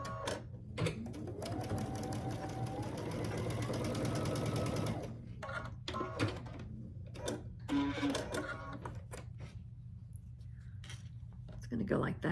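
Sewing machine stitching pieced quilt block fabric for a Grinch-themed block, a steady close whirring run for about five seconds, then short separate bursts of stitching with pauses and handling noises.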